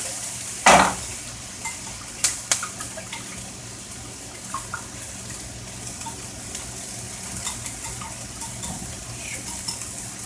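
A utensil stirring omelette mixture in a pan: sparse, soft taps and scrapes, with one sharper clink near the start, over a quiet, steady hiss.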